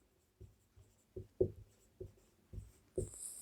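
Quick, rhythmic strokes of writing out an expression on terminal velocity during a physics lecture on viscosity, about seven distinct scratching taps in a steady pattern, close and fairly quiet, with no talking.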